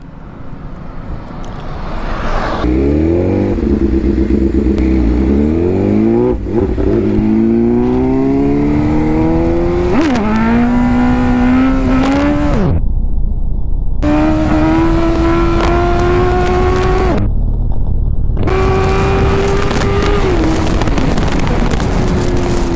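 A motorcycle engine, with a BMW S1000RR or Yamaha R15 named, revs hard and close through a long wheelie, its pitch climbing in stepped gear changes and cutting out in two brief breaks.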